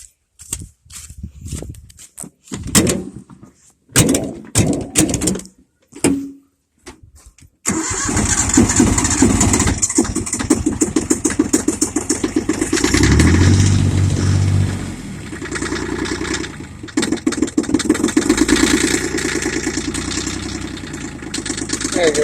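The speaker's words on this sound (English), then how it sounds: "There you go, got the idle set." A tractor engine cranking and catching after several short bursts, then settling into a loud, steady idle that rises and falls slightly as the idle is adjusted, close by.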